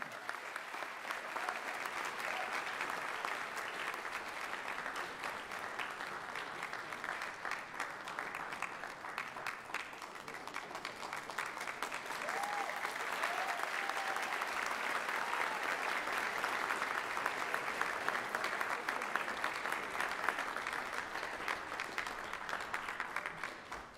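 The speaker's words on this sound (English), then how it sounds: "A round of applause, please." Sustained audience applause at a university honors convocation, a dense steady clapping from a large crowd that swells slightly midway and continues for the full stretch with no talk.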